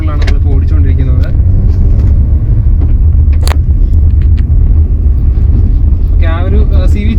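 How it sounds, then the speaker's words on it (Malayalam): A 2022 Toyota Glanza with a CVT gearbox drives along a road, its interior filled with a steady, loud low engine and road rumble and some wind noise, while people talk over it throughout. "നമ്മള് ഗ്ലാൻസയുടെ ഏറ്റവും ലേറ്റസ്റ്റ് മോഡലാണ് നമ്മളിപ്പോൾ ഓടിച്ചുകൊണ്ടിരിക്കുന്നത്."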